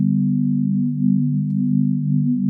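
Swarm preset on an Ableton Live 12 synthesizer for dark ambient music, a sustained low droning tone with slowly shifting, beating layers, steady and alone throughout.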